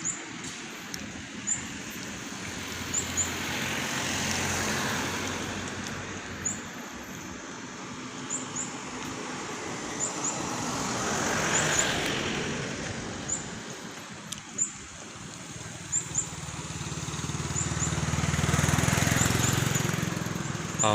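A Volvo EC200D excavator's four-cylinder common rail diesel engine runs steadily outdoors, a low droning rumble that rises and falls with throttle, with faint high chirps above it.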